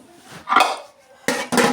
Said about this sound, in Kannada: ಇಡ್ಲಿ ಪಾತ್ರೆಯಲ್ಲಿ ಬೇಯಕ್ಕೆ ಇಡ್ತಾಯಿದ್ದೀನಿ.